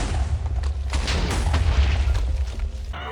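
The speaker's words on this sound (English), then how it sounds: "It will shoot some fireballs high in the air that explode on impact" Fireballs from a volcano spell in the Minecraft Goety mod burst on impact in a rapid series of deep booms and pops, loud and dense, overlapping one another for the whole stretch.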